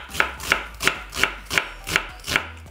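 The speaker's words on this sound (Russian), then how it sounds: "Совсем мелко порежем лук." A knife finely chops onion on a board in a home kitchen, making seven crisp, evenly spaced knocks about a third of a second apart, close and clear, with no talking.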